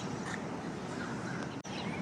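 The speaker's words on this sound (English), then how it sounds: "can you hear that bird? Such an interesting bird." A bird calls in a botanical garden, giving a couple of faint, raspy crow-like caws over a steady wash of light rain and outdoor ambience.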